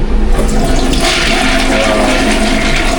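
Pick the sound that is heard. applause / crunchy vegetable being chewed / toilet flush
toilet flush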